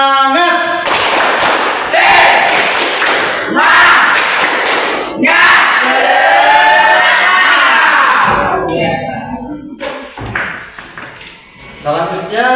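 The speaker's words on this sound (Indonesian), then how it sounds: "mari kita tepuk semangat!" Schoolchildren perform the tepuk semangat chant, loud rhythmic clapping bursts mixed with shouted voices in a classroom, with pauses between claps and a teacher's voice heard near the end.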